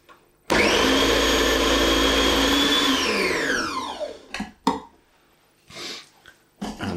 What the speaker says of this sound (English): So just whiz that in with the grater.